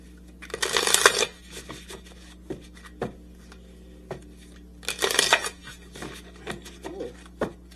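Tarot cards are shuffled in two loud riffling bursts, with soft slides and taps as cards are drawn and laid down between them, close and without talk.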